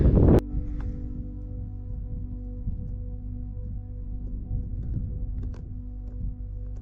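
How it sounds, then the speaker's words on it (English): Cold wind blowing across an exposed mountain ridge in Knoydart, Scotland, a steady low rumbling buffet on the microphone after a brief louder burst at the start, with faint rustling over it. "Bit cold wind now."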